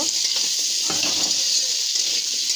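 Potatoes fry in a pan with turmeric and salt, sizzling steadily while a utensil stirs them against the pan with soft scraping clinks.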